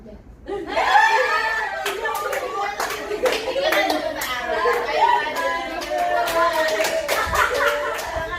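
A group of children clapping hands in a 3-6-9 counting game, sharp irregular claps close by, mixed with chatter, laughter and children's voices.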